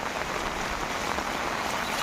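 Heavy monsoon rain pours steadily in Mayurbhanj, Odisha, a dense, unbroken hiss of drops hitting surfaces at constant loudness, with no voices.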